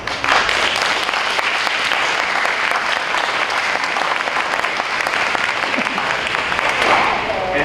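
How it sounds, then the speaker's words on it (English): An audience applauds at an adult basic education graduation ceremony, with steady, dense clapping from a large crowd that holds at an even level throughout while a voice carries on faintly in the background. "Graduates, will you please join me in giving them a round of applause?"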